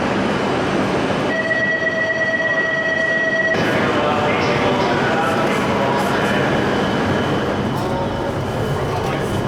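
Steady rumble and rush of a Japanese bullet train running between Tokyo and Niigata, heard from inside a carriage, with a brief whining tone early on and people talking under the continuous noise.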